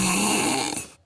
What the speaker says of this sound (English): Stop fucking snoring.